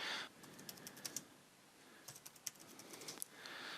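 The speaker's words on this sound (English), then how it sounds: "So let's type in here, test message as a subject title" Typing on a computer keyboard, with quick irregular clusters of crisp key clicks separated by a brief pause, close and fairly quiet with no voice present.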